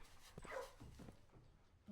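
A dog barks a few short times at moderate volume in the Mount Holly Garden Manor video game, the yips fairly close over a soft background and then fading.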